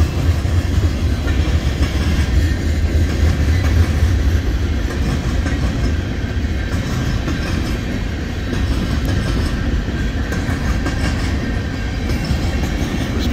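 A freight train of boxcars, some loaded with logs, rolls past on a Wisconsin short line, a loud continuous rumble with rhythmic wheel clatter and low engine drone, no voices.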